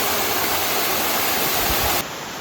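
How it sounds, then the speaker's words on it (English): Steady, full-band roar of a waterfall on the Bartram Trail, close and loud throughout, with the sound shifting and dropping slightly near the end. "Another beautiful waterfall."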